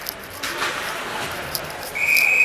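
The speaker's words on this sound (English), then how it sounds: "We get a whistle." A referee's whistle at a high school ice hockey game between Kennedy and St Paul Highland Park blows sharply near the end, a loud steady shrill over arena crowd noise.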